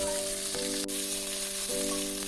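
Chopped onion and green chilli frying in hot oil with whole cumin seeds, a steady, close sizzle with a faint continuous tone underneath and no talking.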